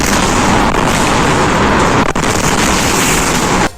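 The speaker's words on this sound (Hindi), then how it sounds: "उस दौरान फैक्ट्री में लगातार जोरदार धमाके होते रहे।" Explosions at a Harda fireworks factory, a loud, dense rumbling roar of continuous blasts with a sharp crack partway through, heavy and unbroken until it cuts off near the end.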